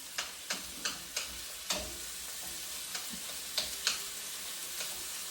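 Pork pieces left undisturbed in a hot pan for a cauliflower stir fry, giving a steady low sizzle broken by a string of sharp spits and pops, close by with no talk.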